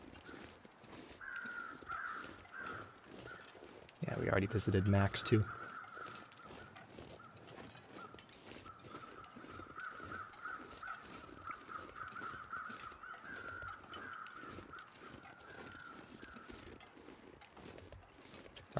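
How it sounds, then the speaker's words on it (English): Crows cawing in The Long Dark, circling a dead deer by a shed in a snowy wilderness game world, with a sharp louder burst near the start and then faint repeated caws running under quiet speech. "those crows right there are circling the dead deer"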